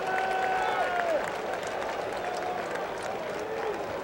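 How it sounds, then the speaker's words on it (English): Baseball stadium crowd at a 1986 World Series game gives a steady, sustained round of applause as an injured player leaves the field, a broad wash of distant clapping and murmur with a faint whistle running through it. "he gets a well-deserved round of applause for his gutsy playing on a bad leg"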